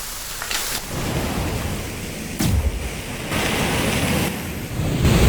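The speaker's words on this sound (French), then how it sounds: "Il fait un temps dégueulasse, il pleut." Steady heavy rain pours outdoors while rumbles of thunder roll in several times, building in loudness toward the end, with no voices over the storm.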